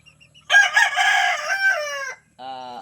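A rooster crows loud and close in one long drawn-out call, followed by a short second crow, with chickens on a farm being raised for weight gain around it.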